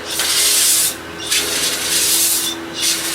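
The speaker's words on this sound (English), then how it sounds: "let me spray this little brush and see if I can clean it off real quick" Three hissing bursts from a can of brake cleaner sprayed onto a small brush, close by, separated by short pauses, with a faint low hum underneath.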